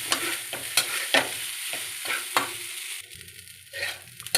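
Fried rice sizzles in margarine in a pan, with repeated scraping and stirring strokes from a utensil, close and fairly loud, with no talking.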